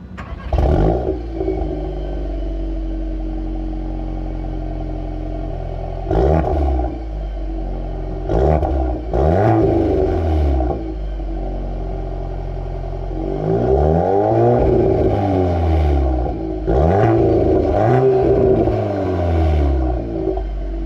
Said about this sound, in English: Let's take a listen to this engine through that titanium exhaust.